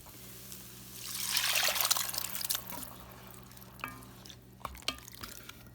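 Water running into an emptied 10.5-ounce condensed soup can, a splashing pour that swells for about a second and then trails off into scattered drips and small clinks, close up and with no talking.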